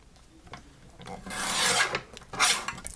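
Craft paper being trimmed along a marked line, giving short rasping cuts: a brief scrape, then two louder sustained rasping strokes close by, with no talking.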